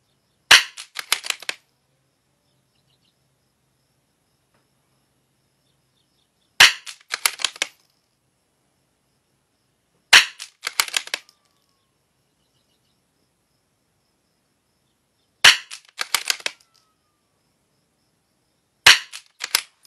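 Five bursts of gunshots from target shooting, each a quick cluster of sharp cracks repeating every few seconds with silence between, loud and close.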